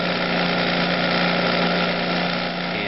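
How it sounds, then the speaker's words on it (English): A bench grinder runs with a steady, loud whine and hum while grinding a point onto the cut end of a finishing nail, continuous and close with no talking. "went over to my grinder"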